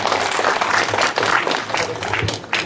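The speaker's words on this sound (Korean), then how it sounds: "박수 한번 보내주시기 바랍니다" An audience applauds at a literary award ceremony, a steady dense wash of many hands clapping close by.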